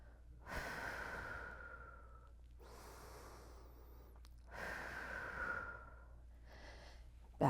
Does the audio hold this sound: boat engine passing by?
no